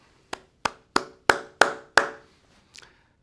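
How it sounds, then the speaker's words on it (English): Six sharp claps spaced about a third of a second apart at a military change of command ceremony, with a couple of fainter taps trailing after, no talk. "How about a round of applause for Brooks?"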